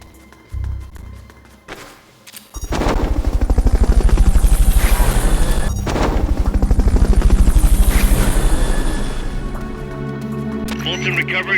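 A video game helicopter's rotor, from Metal Gear Solid: Peace Walker, chops loudly in a steady rapid thumping that swells and holds, after a few brief thuds and a quiet lead-in.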